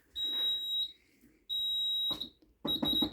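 A JSB FX2202 conventional fire alarm sounds during a system test, giving loud, shrill electronic tones in repeated bursts with short gaps. A voice speaks between and over them.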